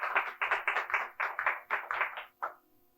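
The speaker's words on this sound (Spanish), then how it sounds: "Dale un fuerte aplauso si me estás entendiendo." A church congregation applauds during a Spanish-language sermon in short, rhythmic bursts, about ten distinct pulses at a steady beat, before it trails off into quiet.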